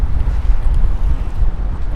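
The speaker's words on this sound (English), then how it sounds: "it is super windy over here by the water" Strong wind beside the water in New York City buffets the microphone in a loud, constant low rumble with gusty swells and no talking.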